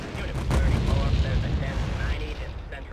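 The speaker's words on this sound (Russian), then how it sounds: "Чё, не все взорвалось" Cars blowing up in GTA 2, heard as a loud, booming blast near the start that trails into crackling, rumbling debris and fading pops, with a voice talking over it.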